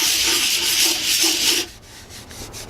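Sandpaper rubs by hand across a wooden bread shelf in close, loud back-and-forth strokes that break off partway, leaving softer scraping.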